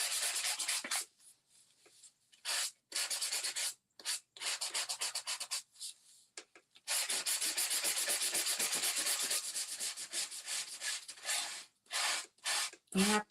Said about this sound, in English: And you just start sanding away.